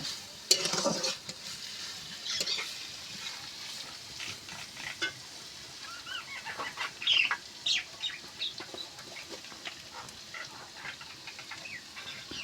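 Garlic and green chillies fry in a pan with a continuous soft sizzle and occasional stirring scrapes, moderately close and fairly quiet, with a few brief louder crackles and no talking.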